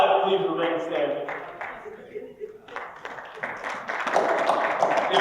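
Scattered applause from a conference audience at an African spirituality gathering, uneven clapping that dips in the middle and swells again, with talk mixed in.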